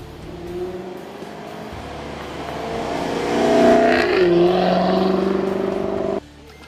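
A Jaguar F-Type R with four large exhaust tips and switchable exhaust flaps idles, then its engine rises into a loud rev and settles back down before cutting off.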